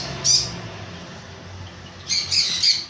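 Birds in a pet bird shop near Gocharan station give short, sharp chirps and squawks, a brief burst, then a cluster of calls a moment later, close and clear over a quiet background.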